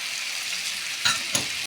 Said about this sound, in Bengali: এই সবগুলো 3-4 মিনিট ভালো করে কষিয়ে নিতে হবে।